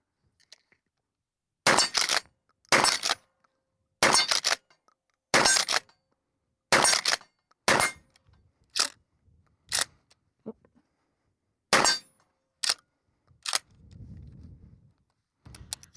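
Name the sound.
gunshots firing 1,500 fps slugs at steel targets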